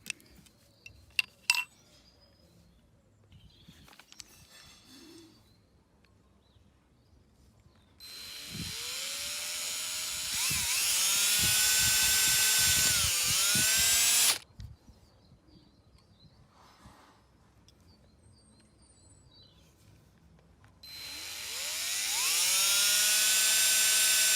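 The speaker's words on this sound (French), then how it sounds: "on va faire deux trous avec la mèche qui est fournie également et la perceuse" An electric drill bores holes through the plastic, aluminium-coated door trim of a Tesla Model 3 while fitting automatic door handles, two loud sustained whining bursts close by with bits of handling noise and quiet gaps between.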